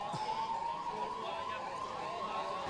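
A siren wails during a mock emergency drill at Safidon tehsil with ambulances and police vehicles arriving, a steady rising and falling tone heard from some distance over faint background noise.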